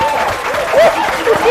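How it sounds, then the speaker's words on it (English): Studio audience applauding to welcome a guest onto a talk show, a broad, steady wash of clapping with cheering voices mixed in, loud and close throughout. "a warm round of applause for the mighty Emperor"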